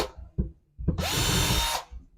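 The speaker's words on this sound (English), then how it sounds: "We drill this with a 3mm pilot drill." A power drill bores holes in wood with a 3mm pilot bit while a kitchen base unit is built, a couple of short knocks followed by a loud, steady close-up whine lasting under a second before spinning down.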